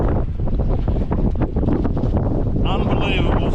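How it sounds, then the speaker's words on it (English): Cold wind blows hard across Lake Eucumbene on a trout fishing morning, roaring steadily into the microphone, with a voice speaking under the gusts. "the weather is still bloody cold, it's windy"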